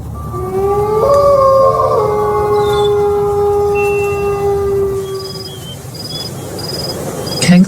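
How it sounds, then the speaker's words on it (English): Wolves howl in long, drawn-out, overlapping tones; several voices hold and slide their notes, and higher, shorter howls join near the end, loud and fairly close. "Wolf."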